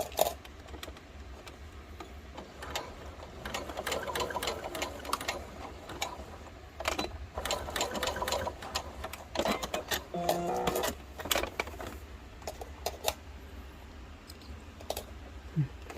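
A sewing machine stitches a seam on a dress sleeve with armhole pleats, a steady mechanical whirring in bursts of varying length with short pauses between runs, close and alone without talk.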